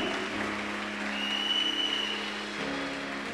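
A church congregation claps in sustained, dense applause that fills the room steadily and loudly for the whole stretch.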